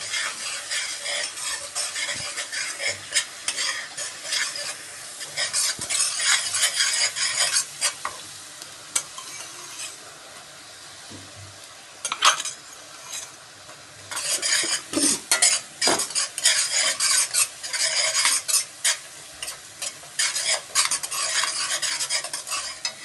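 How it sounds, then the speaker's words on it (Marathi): Cumin seeds and crushed green chilli thecha sauté in a pan for sabudana khichdi, a steady loud sizzle broken by repeated scraping and clinking of a spoon stirring against the metal, no voices. "जिरे छान चव येते त्याने चांगला परतून घेऊया"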